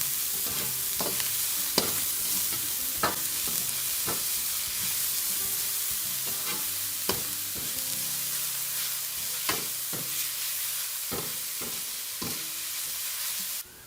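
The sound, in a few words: stir-frying chopped leeks in tempering for string hopper kottu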